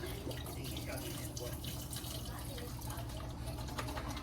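Water pours from a tap into a pot for a seafood boil, a steady, even rush of liquid that sounds close and fairly quiet, with faint talking underneath.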